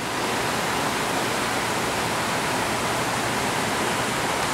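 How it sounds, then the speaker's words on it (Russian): Several waterfalls on a Hawaiian landscape produce a dense, continuous rushing roar that stays steady and loud throughout, with no other sounds standing out. "Смотрите, сколько водопадов здесь."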